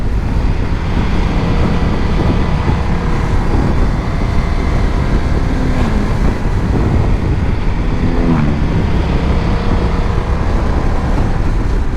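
A BMW F900 XR twin-cylinder motorcycle being ridden, its engine a loud, steady drone blended with rushing wind throughout, with brief rising tonal sweeps partway through as revs change.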